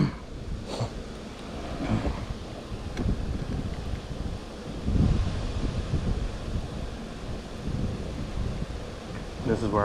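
Gusty wind roars across the microphone at a dam by the water, a continuous low rumbling buffet that swells and eases, with faint speech mixed in.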